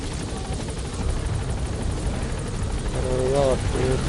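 A helicopter touches down at a landing zone in Metal Gear Solid V: The Phantom Pain, its rotor roar a steady, dense wash that holds throughout, with a brief voice-like warble near the end.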